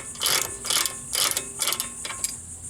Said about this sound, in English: we'll just grab our socket and a ratchet, get those two bolts removed. Bottom bolt on the caliper, getting it loose.